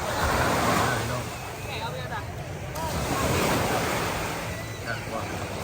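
Ocean surf rolling onto the sand at Miramar Beach, Florida, a steady broad wash with wind buffeting the microphone, continuous and fairly loud, while someone talks over it.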